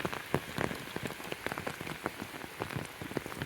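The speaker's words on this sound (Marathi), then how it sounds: "आता पाऊस बघ कसा पडलाय" Heavy rain pattering close by on a hard surface, with distinct sharp drops striking in an irregular, constant rhythm.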